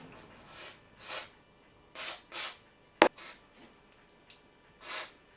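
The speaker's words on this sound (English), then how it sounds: "I'll soak all these parts and pieces in a bit of spray oil." Several short hissing sprays from an aerosol can of oil onto toaster parts, in uneven bursts with a sharp click in between, close and fairly quiet.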